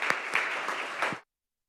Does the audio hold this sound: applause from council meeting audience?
yes